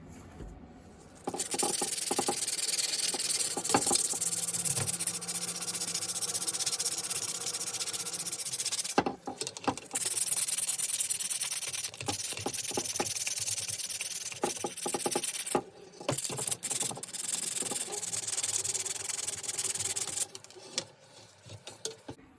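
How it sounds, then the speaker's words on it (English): Abrasive paper is rubbed by hand over the steel mudguard of a 1950 Raleigh Dawn Tourist bicycle to take back its coating, producing bursts of close, scratchy sanding strokes separated by short pauses. "I just need to sand it back a bit more and give it a degrease"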